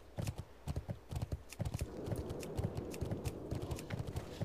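Horse hooves clip-clop in the World of Warcraft video game, a steady quick trotting rhythm close by, with faint game ambience behind it.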